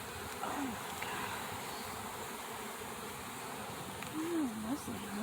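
Honey bees buzz steadily around open brood frames at a hive, a soft continuous drone with a few louder passes near the end.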